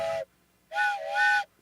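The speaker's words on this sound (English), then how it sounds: "Train whistle." A train whistle blown loudly and close by, with a short blast followed after a pause by a longer two-part blast, each a bright, steady, piercing tone with no voices.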